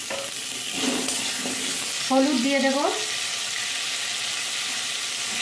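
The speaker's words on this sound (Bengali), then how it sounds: "ওই অল্প তেলেতে আলুগুলো ভেজে নেব" Potatoes fry in a small amount of oil in a pan for a hilsa recipe, giving a steady, soft sizzle with occasional stirring. A short spoken remark comes midway.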